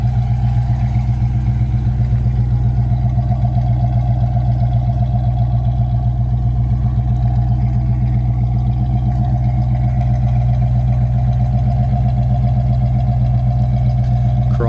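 A 1967 Ford Mustang with dual exhaust and chrome tips idles steadily close by, a deep throbbing exhaust rumble with a constant low hum and no talking.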